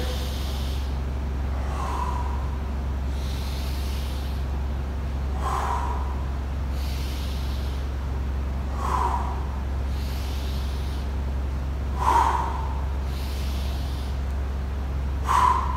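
Deep breaths drawn in and let out during a floor exercise, with about five breathy pulses spaced a few seconds apart over a steady low hum, close and moderately loud.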